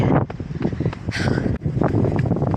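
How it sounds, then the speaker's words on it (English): Strong wind buffets the microphone in loud, continuous roaring gusts, with a brief dropout midway, while a runner is out on a 35 km long run. "Now the wind is pretty brutal today."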